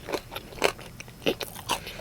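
Crunchy bites into hot, fresh Wingstop crispy chicken tenders, a handful of sharp crackling crunches spaced irregularly, close up with no talking.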